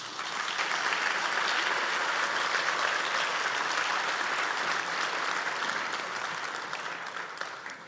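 Sustained applause from a festival audience honoring the artists at a world harp festival in Asunción, Paraguay, a dense, steady clapping that holds loud throughout and eases slightly near the end, with no talk over it.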